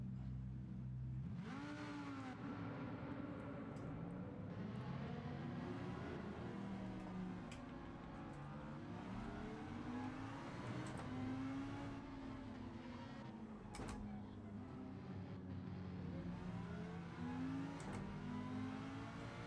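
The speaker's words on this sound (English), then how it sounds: "I'm not the only Lamborghini out here." Lamborghini race car engines in a racing video game rev and drone steadily, with rising and falling pitch sweeps repeating throughout, loud and continuous with no talk.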